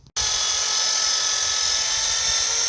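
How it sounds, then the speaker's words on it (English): A wire wheel on a power tool spins up abruptly and runs at a high, loud whine while cleaning the traction beam of a Ford Ranger, a steady close scouring hiss with no pauses. "we're just gonna take the wire wheel here, clean the traction beam, and clean that up"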